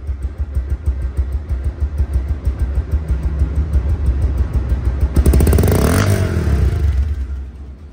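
A 2024 Bajaj Pulsar DD ABS motorcycle engine runs close by with a steady, throbbing idle, then revs up in a rising surge before settling back, with no talk over it.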